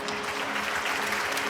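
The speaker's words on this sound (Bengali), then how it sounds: "আমার জন্য একটু হাততালি দেন।" Dense audience applause at a televised awards ceremony, a sustained wash of many hands clapping steadily and loudly for the whole moment, no voices over it.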